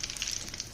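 Edible gum (gond) crackles and sizzles softly as it roasts in a pan, a faint, steady frying hiss with small pops and no voice over it.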